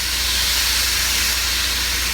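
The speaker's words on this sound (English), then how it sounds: "I'm gonna pour this in, this cauliflower here. You hear it sizzle?" Steady, loud hissing sizzle of cauliflower frying in a hot pan, continuous and close, with no voices.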